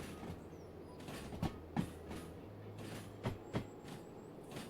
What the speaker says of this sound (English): Love that sound of the click clack.